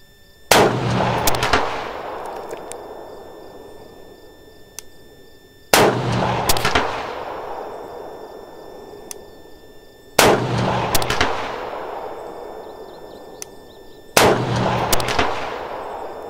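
Four loud, sharp rifle shots fired with Callaway Ballistics 77gr Sierra rounds during an accuracy test, spaced a few seconds apart, each cracking hard and then decaying into a long echoing tail.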